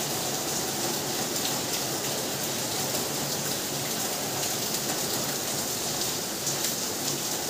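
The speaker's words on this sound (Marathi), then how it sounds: "आज 4 दिवसापासून 4 दिवस आणि 4 रात्र सारखा पाऊस चालू आहे बघा." Heavy rain pours without a break during a days-long monsoon downpour in Mumbai, a dense steady hiss of drops on surfaces that stays loud and constant throughout, with no voices.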